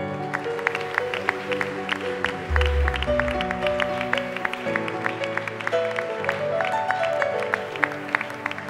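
A church congregation applauds the King of Kings, a steady wash of clapping under sustained organ-like music with a brief low thump partway through, continuous and moderately loud.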